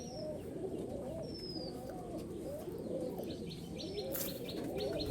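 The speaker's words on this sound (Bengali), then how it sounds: "হাওড়া ময়দানে যাবে পায়রা দুটো" Pigeons being handed over for delivery coo softly and repeatedly in low rolling phrases, with a few thin chirps and a brief flutter near the end, fairly close and quiet without talk.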